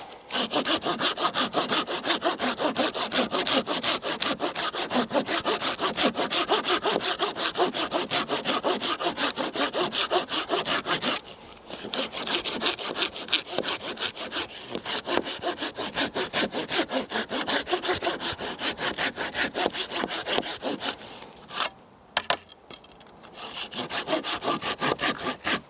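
A Japanese Silky Bigboy hand saw cuts through wood in steady, rapid back-and-forth strokes. The rasping is loud and close, pauses briefly near the middle and again toward the end, then carries on.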